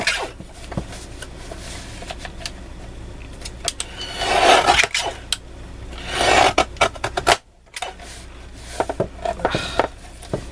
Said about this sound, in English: my guillotine is on its last legs. Doesn't like when I've got multiple papers to cut.